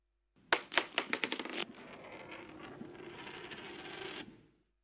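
An old 1947 coin drops and rattles onto a hard surface, a sharp metallic bounce settling into a spinning, wobbling ring that fades out after a few seconds, close and isolated.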